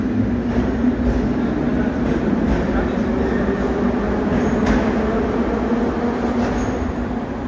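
A loud, steady rumble of a metro train fills the Biruni terminus platform in Tashkent, with a constant low drone and faint mechanical hiss throughout.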